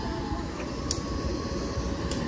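Argo Wilis passenger train passing through a station near Cicalengka, heard as a steady, continuous rumble with broadband rail noise and a couple of brief high squeals.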